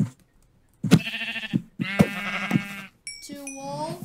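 Sheep bleating in Minecraft, three short wavering baas in a row, close and clear with no talking over them.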